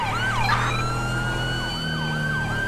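A wailing ambulance siren in the video game LSPDFR sweeps up and down continuously over a low engine drone, loud and close, with no voices.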